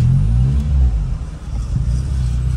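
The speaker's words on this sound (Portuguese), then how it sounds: "Dá partida. Sim, acelera um pouquinho." A car engine during a driving lesson starts and gets light throttle, a loud, deep rumble close by that swells, dips briefly, then settles into a steady low drone.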